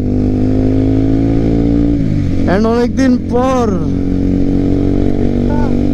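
A new Suzuki GSX-R sport motorcycle hums loudly on a city road, its steady engine drone swelling into a couple of sharp revs midway, with a rider's voice talking throughout.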